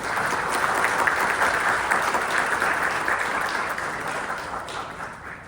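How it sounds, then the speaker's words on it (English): A seminar audience at a Canada Embassy battery stakeholders conference applauds, steady dense clapping that fills the room and tapers slightly toward the end, with no speech. "Let's give a big round of applause for everyone"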